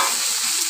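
Onions and tomatoes sautéing in a hot pan for an egg rice dish, with a dense, loud, continuous sizzle and soft stirring scrapes up close.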